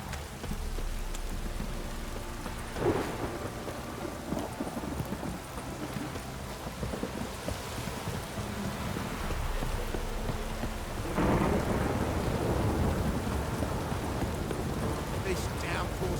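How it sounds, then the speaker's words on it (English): A heavy downpour in The Witcher 3, steady loud rain hiss with low rolling thunder rumbles building partway through, and a louder swell of rain and thunder near the end. "This downpour's a bastard,"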